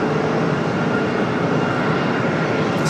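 A Boeing 777 airliner at Raleigh-Durham International Airport gives a steady, loud jet engine roar that holds without a break, with no voices over it.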